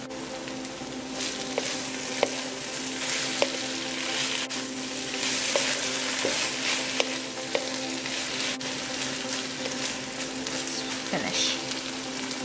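Mackerel choka with peppers and green onion frying in a pan: a steady, fairly loud crackling sizzle with occasional light stirring clicks, heard alone without speech.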